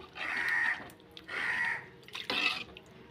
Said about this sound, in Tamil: அதனால் இன்னும் கொஞ்சம் கூட தண்ணி நான் ஊற்றுறேன்